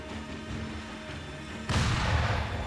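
Gunfire from an enemy shooting at a wall in the video game Sekiro, starting partway through as a sudden loud, dense burst of sharp cracks that continues to the end over a low background rumble.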